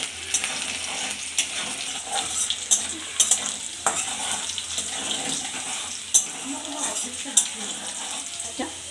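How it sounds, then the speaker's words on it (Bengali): Food fries in a pan while a spoon stirs it, producing a soft sizzle punctuated by repeated scraping and clinking strokes, fairly quiet and close. "লাল লাল করে ভাজা হয়ে গেছে,"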